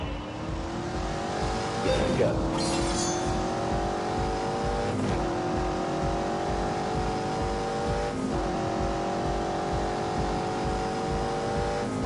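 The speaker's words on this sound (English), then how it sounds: "that V8 engine. It's smooth, it's quiet, it's unobtrusive. But then you just knock it down a few and give it a bit of shoot." A car's V8 engine accelerating hard, loud revving climbing in pitch through several gear shifts with brief breaks between them, while a voice speaks briefly near the start.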